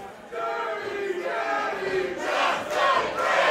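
A wrestling crowd at a Limitless Wrestling show roars and chants steadily through a Chris Dickinson vs. Josh Briggs match, the sustained cheering swelling louder toward the end.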